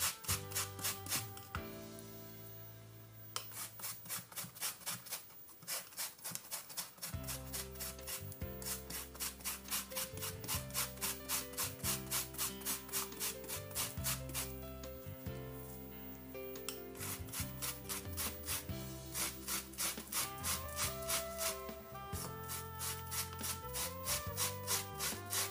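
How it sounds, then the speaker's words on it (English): Unripe plantain rubbed against a hand grater for moi moi, a continuous rhythmic rasping scrape in quick even strokes, close and steady with no talk. "I'll grate unripe plantain to help the blender"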